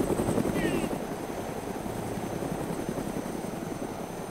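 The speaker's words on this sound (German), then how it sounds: "Und der Hubschrauber leuchtet rot und grün." Helicopter flying in the DayZ video game on Lingor Island, a steady rotor thump and engine drone held at constant loudness, fairly close, with no speech over it.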